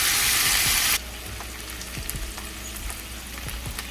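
Chicken pieces sizzle and fry in a pan after being flipped. A loud burst of hissing opens the clip, then drops to a steadier, quieter crackle with scattered small pops and light scraping.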